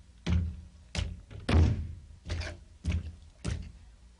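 A front door being handled in a 1972 radio comedy play, with six heavy, evenly spaced thuds at close range and nothing else between them.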